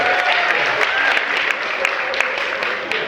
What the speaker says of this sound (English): Clap for customer service workers.